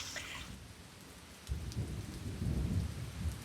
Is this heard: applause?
no